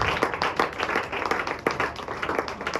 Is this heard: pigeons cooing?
no